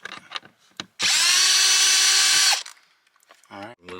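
A power tool runs in one steady, loud whir for about a second and a half, driving out Torx 30 bolts on an interior panel of a 2008–2015 BMW 5, 6 or 7 series during a cabin filter replacement, with brief talk and handling noises on either side.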